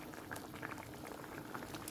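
Water bubbles at a rolling boil in a pot of lentils cooking for lunch, a steady soft gurgle with faint popping, heard close and alone throughout.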